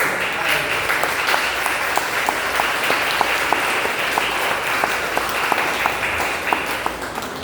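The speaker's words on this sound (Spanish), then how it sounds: "Dale un fuerte aplauso." Sustained applause from a church congregation during a service, a steady dense wash of clapping with occasional sharper claps standing out, continuing for the whole stretch.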